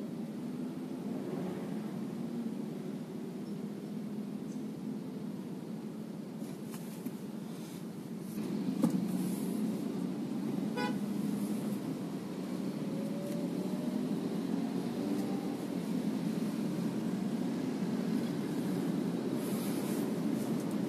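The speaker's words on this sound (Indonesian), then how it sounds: "Mesinnya idle-nya di 800 rpm. Ketika idle begini sih halus ya, karena mobil baru, tapi ketika digas 2000 rpm udah kedengeran banget mesinnya ke dalam." A new Toyota All New Rush TRD 2020 engine heard from inside the cabin, a low steady idle hum that rises into a louder, sustained revving drone partway through, with faint clicks and rustles.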